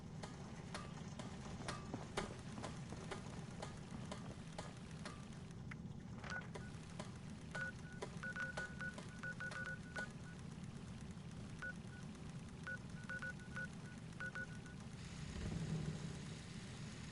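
Telephone dialing tones inside Fallout 76, a run of short electronic beeps in quick bursts over a steady low engine-like hum, moderately clear and unaccompanied by speech.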